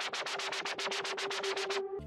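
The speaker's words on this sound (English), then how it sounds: "So the next layer of the lead is a noisy lead" A noisy, distorted synth lead layer in an electronic track, with a dozen rhythmic bursts of broad hiss and buzz over a steady sustained tone, close and loud, ending abruptly.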